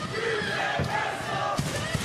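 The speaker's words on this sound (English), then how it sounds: "You hear the crowd." A wrestling crowd cheers and roars continuously at an indoor Ring of Honor event, a dense wall of voices with a few louder surges and no commentary heard over it.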